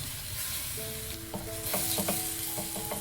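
Grated radish sizzles and fries in a pan while being stirred, giving a steady crackling hiss with scraping stir strokes and small clinks close by, with no talk.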